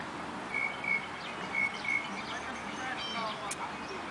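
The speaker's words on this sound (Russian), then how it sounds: "И вон к ней еще птичка подходит." Small birds chirp in a park with short, high repeated tweets over a steady outdoor background hum, fairly faint and without talk.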